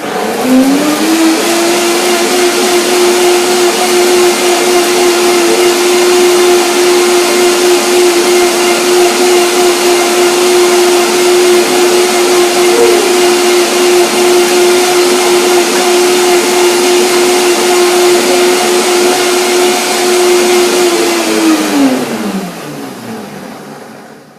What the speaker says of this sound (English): So, blender dance again. Let's see what happens with this dressing.